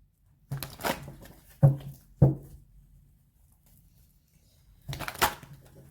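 Tarot cards being shuffled by hand, a few short papery riffles and taps spaced apart in a quiet room.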